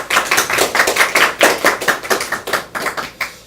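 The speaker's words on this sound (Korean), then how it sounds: "박수 좀 한번 쳐주세요" A small group at a provincial council chair's press conference claps close and loud, separate hand strikes clearly audible in an uneven but continuous rhythm for several seconds.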